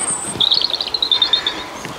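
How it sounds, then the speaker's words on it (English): Several birds chirp and twitter in quick, bright bursts near a footpath by flowing water at dusk, with faint background hum and no talking. "just the sound of the birds"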